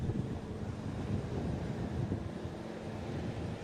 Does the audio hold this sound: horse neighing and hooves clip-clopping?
no